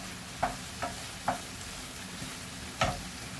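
Flour being stirred in a frying pan for a white sauce, with a few distinct scraping strokes of a utensil spaced irregularly over a steady low sizzle.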